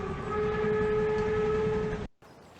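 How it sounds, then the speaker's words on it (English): Train running past in The Night of the Rabbit video game: a loud, steady whistle-like tone over rumbling rails for about two seconds, then cut off abruptly into quiet. "There's a train running by, but it stopped making noise for some reason."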